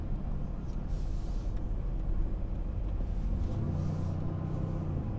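Engine of a brand-new Mercedes-Benz AMG C car heard from inside the cabin, a steady low rumble that swells and holds as it pulls away, with no talk over it.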